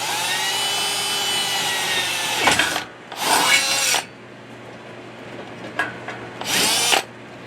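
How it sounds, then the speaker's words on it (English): A power drill whines steadily, then bursts of harsh grinding as the bit bites into a metal pipe, with short pauses between runs. "I'm going to be drilling a hole right in the middle of those indentations."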